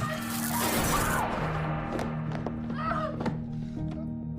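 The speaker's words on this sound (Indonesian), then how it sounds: "Joyce sempat menanyakan keberadaan Will, telepon rumah mereka tiba-tiba meledak" A home telephone suddenly blowing apart in Stranger Things, a loud crash and shattering burst at the start, followed by scattered thuds and clatter of debris as it fades over a low hum.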